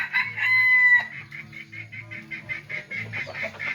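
A bantam rooster crows once, loud and close, then gives way to softer clucking and assorted fowl calls in a busy poultry yard.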